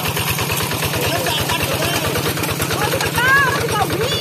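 A tractor engine runs with a steady, rapid low chugging throughout, close and loud, with voices talking over it.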